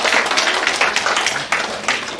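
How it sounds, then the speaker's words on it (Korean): A congregation at a Korean high school group Sunday church service claps together, a dense burst of applause with uneven rhythmic peaks, close and loud throughout. "박수 한번 주세요."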